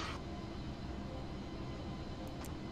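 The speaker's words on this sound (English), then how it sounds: "I believe a jet has just overtaken us." A jet aircraft roars past in a flight video game, a loud, dense, continuous engine rumble that fills the whole stretch evenly and has no talk over it.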